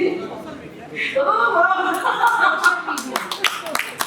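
An audience at a women's award ceremony in Kanpur breaks into clapping that grows into sharp, close claps, mixed with chatter and light laughter after a voice speaks.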